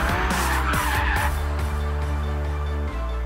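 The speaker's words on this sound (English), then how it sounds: "follow the car 360 degrees as it's doing donuts around us" A car doing donuts on a racetrack, with steady loud tire skidding and squeal over a droning engine that holds continuously, close by.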